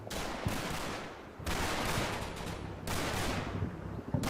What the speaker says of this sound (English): This shootout way more intense than I was expecting.